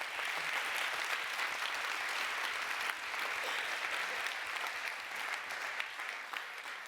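An audience at a peace talks event applauds, a dense, steady wash of clapping from many hands that carries on throughout before easing slightly at the end.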